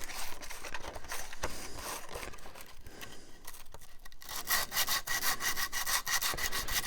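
Sandpaper rubbed over the wood of a homemade ukulele built from junk, giving close, loud, rhythmic back-and-forth scraping strokes that continue steadily with a brief lull midway.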